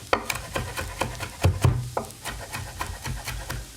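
A knife chopping crispy bacon finely on a board, a quick run of light crunchy taps and rasping scrapes, close and fairly quiet with no talking.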